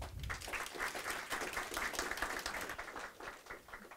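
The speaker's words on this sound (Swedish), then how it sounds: "Vi tackar än en gång med en applåd." Audience applause at a Swedish release event for a digital learning-materials system, a steady wash of clapping from a seated crowd lasting throughout, fairly faint and distant in the room.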